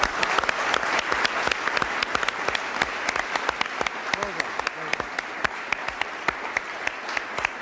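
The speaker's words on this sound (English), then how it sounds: "Congratulations and a round of applause" A studio audience applauds steadily for a contestant on a TV computing show, with dense continuous clapping and sharp individual claps standing out, sustained throughout with no pause.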